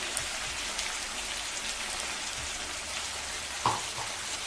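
Tomatoes with salt frying in oil in a pan for vangi bath, a soft, even crackle and sizzle with a few brief clinks near the end, no voices.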